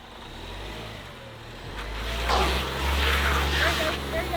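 An off-road vehicle's engine rumbles low, then revs and accelerates on a Moab trail, surging louder midway and staying strong, with voices talking over it.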